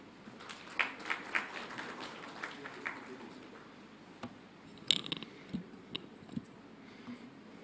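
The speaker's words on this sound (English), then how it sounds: "Please welcome him with a round of applause." An audience claps in welcome for a speaker at an investment summit road show in Mumbai, with a faint, scattered patter of hands that swells briefly and then thins out.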